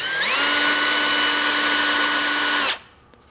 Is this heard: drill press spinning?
yes